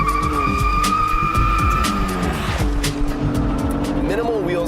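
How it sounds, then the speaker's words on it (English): 2015 BMW M3 launching hard from a stab of the throttle, with a loud engine rising through the revs, tires squealing and a quick upshift, heard close. "we actually found it slightly faster to not hold the brake and just stab the throttle"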